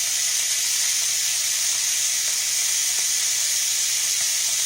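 Beef strips browning in a hot skillet for homemade beef stroganoff, a loud, steady high-pitched sizzle and hiss with faint crackles, close and continuous with no talking.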